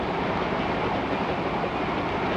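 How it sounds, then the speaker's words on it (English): The New York Central's Mercury train runs between Cleveland and Detroit, giving a steady, dense broadband rumble at constant loudness throughout, with no voices over it. "Mercury of the New York Central running from Cleveland to Detroit."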